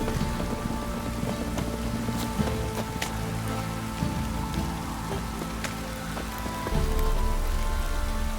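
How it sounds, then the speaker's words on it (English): Steady heavy rain pours down in The Witcher video game, a dense hiss of drops pattering on surfaces with occasional sharper splashes, continuous throughout and swelling louder near the end, with no voices. "This downpour's a bastard, it is."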